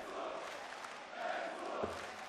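A darts arena crowd at a European Darts Grand Prix match urging the player to throw, a dense, steady roar of many voices from the stands with a swell partway through and a short thump near the end.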